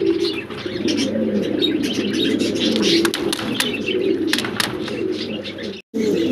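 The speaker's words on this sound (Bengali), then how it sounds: "ভিডিও স্ক্রিনে দর্শক আমরা এখানে দেখতেছি আরো দুই পিস কবুতর আছে সিঙ্গেল" Pigeons coo repeatedly close by, with occasional chirps and bursts of flapping wings.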